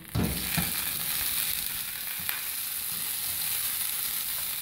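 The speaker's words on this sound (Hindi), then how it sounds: "और इसके ऊपर हम अपने मछली के सरों को सबसे पहले हम इसका हल्का हल्का फ्राई करेंगे।" Fish heads frying lightly in a pan for fish head curry, a loud continuous close sizzle that bursts in at the start and holds steady, with a brief stirring scrape along the way.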